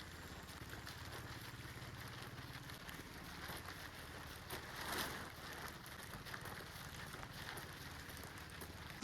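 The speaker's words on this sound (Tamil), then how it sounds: "மழை கொஞ்சம் குறைஞ்சிருக்கு" Steady, fairly faint rain falling on surfaces along a misty hill road near a forest check post, an even patter with no voices, easing off rather than pounding.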